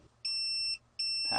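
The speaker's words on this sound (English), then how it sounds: "it just beeps to let you know" Two steady high-pitched electronic beeps, each lasting about half a second with a brief gap, followed by a faint clatter.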